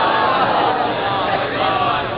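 A mosque or majlis audience recites salawat together, a dense, steady wash of many voices chanting in unison, loud and continuous without any pauses.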